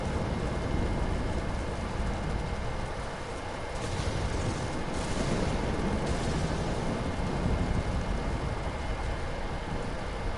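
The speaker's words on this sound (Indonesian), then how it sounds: "Oh, hujan deh." In the video game Ghost of Tsushima, rain pours without a break and thunder rumbles low, a thick wash of noise that holds steady and is never silent, with no speech.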